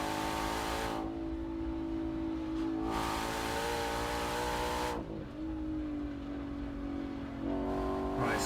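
A Ford Mustang GTD race car, 815 horsepower, accelerates hard through a high-speed left on a Nurburgring lap, its loud engine roaring and climbing through gears with brief shift dips, steady and close.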